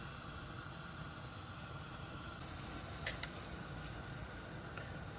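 Steady, dense hissing and low bubbling rumble of water boiling past 190 degrees during a Dodge Charger 2.7 thermostat test, continuous and fairly close, with a brief sharper spurt partway through.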